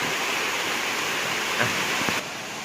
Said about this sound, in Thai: ตอนนี้เรามาถึงน้ำตกไซโยกน้อยแล้วนะคะ